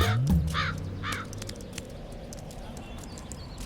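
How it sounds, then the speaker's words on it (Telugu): A crow caws a few times early on, harsh and moderately close, over a busy outdoor background with scattered knocks and a voice talking. "కాకొచ్చింది"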